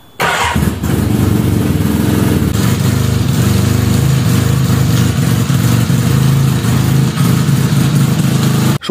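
A Suzuki RE-5 motorcycle with a 498cc rotary engine cranks and fires after a brief moment, then settles into a loud, steady, buzzing idle that holds for several seconds.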